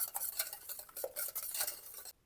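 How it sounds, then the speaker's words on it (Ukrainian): A spoon scrapes and clinks through thick cake batter as 200 grams of sugar is stirred into a Spartak honey cake mix, close and steady in a run of short strokes with no talking. "200 грам цукру, я їх трішечки перемішаю"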